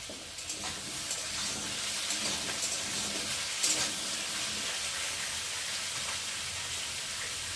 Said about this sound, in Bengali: তো চলো আমি একটু নেড়ে দেবো